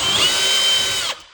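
A power drill backs a screw out of a plastic outlet cover plate, a loud, close, steady high whine lasting about a second before it abruptly stops.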